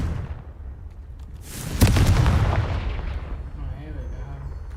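Sudden booming blast of the Confringo fire spell in the video game Hogwarts Legacy, a loud explosive burst that rumbles and fades over a couple of seconds amid game background noise.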